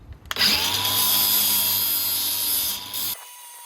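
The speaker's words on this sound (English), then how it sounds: "Yeah, sand these down a bit better, paint them black" A power tool sands metal brackets for a custom gear linkage on a Ford Anglia 105E fitted with a Suzuki Hayabusa engine, a loud steady grinding whine running about three seconds before cutting off abruptly.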